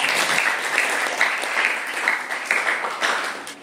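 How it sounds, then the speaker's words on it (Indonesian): A school class claps together, a lively burst of steady applause filling the classroom for several seconds. "Tepuk tangan buat kita."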